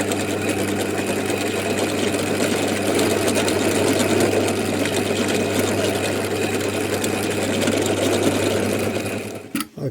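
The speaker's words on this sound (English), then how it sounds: "then we'll try actually milling in from the centre to the plunge cut" A router with a rotating bit milling across a piece of wood on a sled, plunging in from the centre, runs as a loud, steady motor whine with a constant hum that holds throughout and cuts off abruptly at the end.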